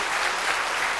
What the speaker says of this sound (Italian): oggi ci godremo questi applausi